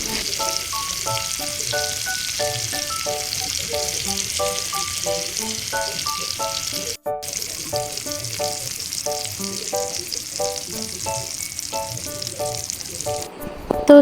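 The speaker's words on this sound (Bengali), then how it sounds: "সাথে আমি হচ্ছে একটু রুই মাছ ভাজি করব" Pieces of rohu fish frying in a pan, a loud continuous sizzle running steadily for the whole stretch beneath a repeating melodic music track.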